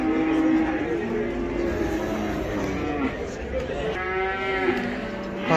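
Calves and cattle at the Taraz livestock market give long drawn-out moos, several overlapping, amid crowd chatter and someone talking nearby.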